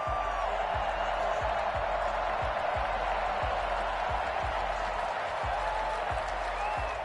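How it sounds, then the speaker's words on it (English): Steady, dense crowd applause and cheering from a Madden football video game on PS5 fills the whole stretch, loud and continuous with no pauses. "How about some applause for the defense there?"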